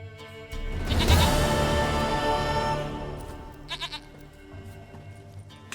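Goat bleating in The Witcher 3, a loud wavering bleat near the start over a low game soundscape, followed by a couple of fainter short bleats.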